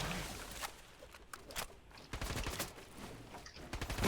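Bursts of gunfire in a duo-mode shooter video game, rapid cracks and volleys over a busy, noisy game mix with some footstep-like clatter, fairly loud and continuous.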